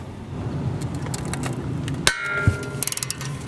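Brake caliper bracket bolts on a front wheel of a 2019-2026 Lexus UX being worked with a 17 mm socket: a sharp metallic clank followed by a few quick ratcheting clicks against a steady background hum.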